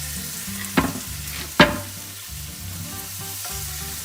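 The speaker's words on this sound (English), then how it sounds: "we're going to take the fish out as soon as we finish searing it on both sides" Four six-ounce fish fillets coated in blackened spice sear in a hot pan with a loud, close, continuous sizzle and two sharp crackling bursts.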